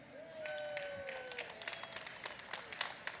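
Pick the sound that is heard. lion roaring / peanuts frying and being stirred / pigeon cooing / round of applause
round of applause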